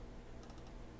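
Computer keyboard keys pressed while modelling in Maya: a short burst of a few quick, faint clicks under a steady background hiss, no talking.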